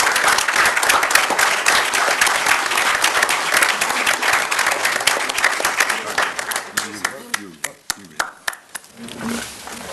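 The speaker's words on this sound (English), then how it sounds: "So I want to give him a big round of applause." Loud round of applause from the audience at a Mountainside, NJ borough reorganization meeting, thick and sustained at first, then thinning into scattered individual claps before fading, with faint voices near the end.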